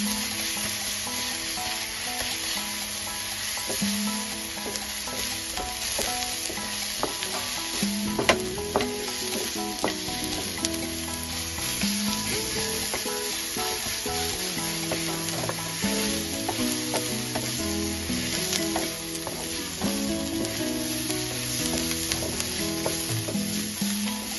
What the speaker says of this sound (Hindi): अब हम इसे मिक्स करेंगे अच्छी तरह भूनेंगे हरे मसाले को